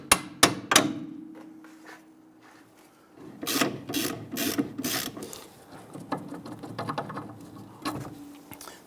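Hammer blows tapping a strut bolt through the steering knuckle on a Jeep Grand Cherokee, a few sharp metallic strikes, then a burst of quick repeated taps, near and loud with quiet gaps between.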